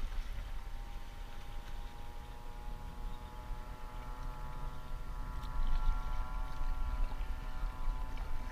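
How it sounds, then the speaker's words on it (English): A fast boat with an outboard motor passes near an island, a faint steady drone that swells slightly toward the end, heard from water level with no talking. "Outboard fast boat."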